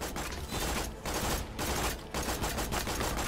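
Rapid gunfire aimed at a baby dragon in Tiny Tina's Wonderlands, loud continuous bursts of shots with brief gaps between volleys, filling the whole short stretch.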